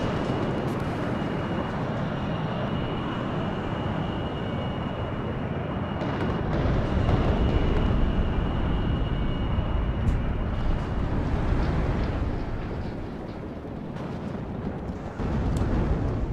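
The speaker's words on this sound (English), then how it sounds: "Coming in here with the bomber. Very cool. He's doing multiple bombing strikes right there on the enemy." Bombs from a bomber aircraft strike in the WARNO strategy game, heard as a continuous heavy rumble of blasts and engine roar that holds steady and swells slightly midway, with no clear breaks.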